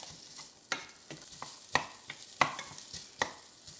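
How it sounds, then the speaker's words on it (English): Sausages in a hot pan being broken into small chunks with a meat masher, giving repeated scraping knocks and taps over a faint sizzle, close and fairly quiet with no talk. "sometimes I just use my meat masher and just break them down into some little chunks"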